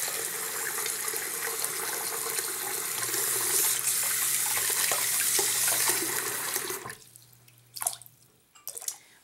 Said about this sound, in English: I usually rinse them all at once, so I feel like I use less water.